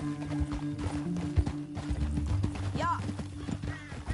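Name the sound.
horse galloping in video game Red Dead Redemption 2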